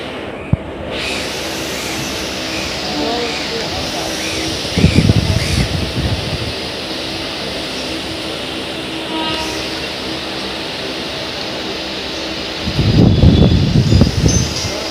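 Local train on the Santragachi to Howrah line, heard from inside as a steady low rumble and rattle of the carriage, with two louder stretches of wheel clatter and some faint voices.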